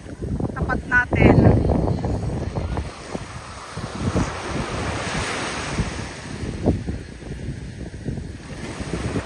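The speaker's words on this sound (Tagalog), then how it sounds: "laki ng alon, oh" Big ocean waves crash and roll onto a beach where people are out catching crabs, a loud continuous roar of surf mixed with strong wind buffeting the microphone and a voice calling out briefly.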